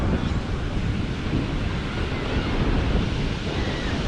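Ocean surf rolls onto a wide Atlantic beach, a loud continuous wash of breaking waves mixed with wind buffeting the microphone, no voices.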